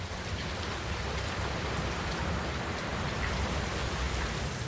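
Heavy rain pours down over the Morava River floodplain in a dense, steady hiss of drops striking surfaces, constant and enveloping from start to finish with no voices.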